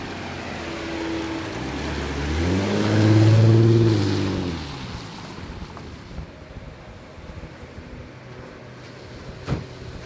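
Porsche Cayenne driving, a tonal engine and road hum that swells and rises in pitch before fading, mixed with wind rush and a sharp knock near the end.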